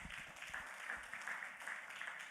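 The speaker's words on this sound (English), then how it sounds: "Big round of applause to Sanlam" Applause fills a launch event, with steady broadband clapping from an audience holding at an even level throughout, no clear voices over it.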